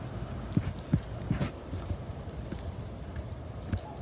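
Hooves clop at an uneven walking pace on a hard surface, a series of soft thuds over a steady background hiss.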